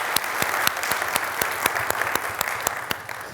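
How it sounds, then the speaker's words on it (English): Audience applause at an industry fireside chat, steady dense clapping at moderate level throughout with a few sharper individual claps standing out, no talking. "we really should give him a round of applause"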